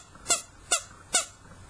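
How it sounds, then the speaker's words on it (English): A vintage Korean-made rubber toy from around the 1960s or 70s squeaks three times in an even rhythm, each squeak short, thin and airy. "It does still squeak, barely."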